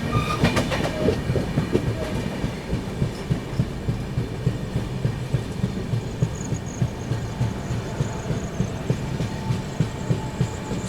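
A passenger train rolls steadily through a station without stopping, rhythmic clickety-clack and a constant low rumble, heard from on board, no voices.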